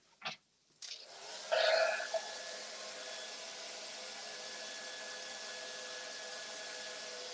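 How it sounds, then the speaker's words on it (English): A few quiet knocks, then a hair dryer starts and blows with a steady whooshing hum that carries on evenly to the end. "we need to dry it with the hair dryer."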